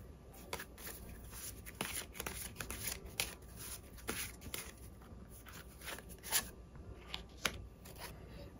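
Tarot cards shuffled and drawn by hand, a series of quick crisp riffling and flicking bursts, close and fairly quiet, irregularly spaced, with no talking.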